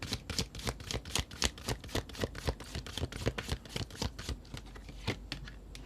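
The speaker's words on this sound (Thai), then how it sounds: "เดี๋ยว แม่หมอจะเปิดไพ่ใบสุดท้ายให้ค่ะ" Tarot cards handled during a reading, a quick run of crisp flicking and sliding taps close to the microphone, rapid and fairly even throughout.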